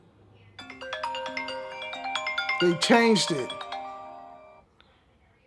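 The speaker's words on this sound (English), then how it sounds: "That's a ringtone." An iPhone 11 Pro plays a chiming ringtone, a bright repeating pattern of tones that swells and then fades away, with someone talking over the middle of it.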